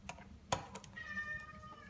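A hungry cat meows indoors during a repair of a BMW 5 Series F10 LCD screen, heard as a faint meow alongside a sharp click and soft tapping.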